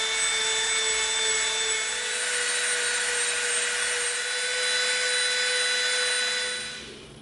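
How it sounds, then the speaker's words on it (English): A Dremel rotary tool rounds the back edges of an EVA foam piece for a prop Lawgiver, giving a steady high-pitched whine that holds close and loud for about seven seconds before trailing off. "we're going to begin rounding these back edges and this piece with our Dremel."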